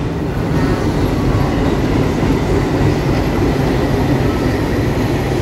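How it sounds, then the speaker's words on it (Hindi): Gomti Express passenger train hauled by a diesel locomotive at Lucknow, rolling past close by as a loud, continuous rumble of wheels and carriages. "इसमें डीजल का लोकोमोटिव लगा है आगे की साइड।"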